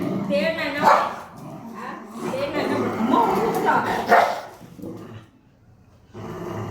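A dog barks and growls in short, close bursts, its voice mixed with people talking nearby, before a brief lull and a final rise in sound.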